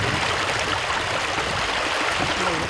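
A river heavily polluted with sewage flows and bubbles in a loud, unbroken rush of water that fills the whole stretch without pause.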